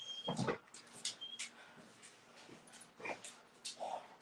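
A pet dog whimpers and yips in short, high bursts while waiting to go outside, with brief whines spread unevenly across a few seconds and a person speaking faintly in between.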